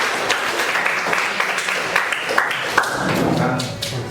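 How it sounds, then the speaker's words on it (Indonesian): An audience claps for a participant during an academic coaching and supervision session, a light scattered patter with a few sharper taps and thumps, at moderate level. "tepuk tangan untuk Januar"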